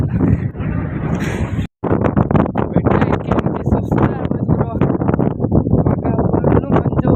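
Heavy wind gusting through thick fog on a hill road near Chikmagalur, a loud rushing roar buffeting the microphone, with a person talking over it throughout.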